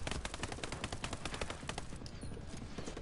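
Rapid full-auto gunfire rattles in a video game as quick, evenly spaced bursts, fairly steady and moderately loud, before thinning out toward the end.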